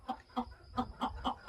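Hens in a coop on a hot day give a quick run of soft, rhythmic clucks, six or so close together at moderate volume.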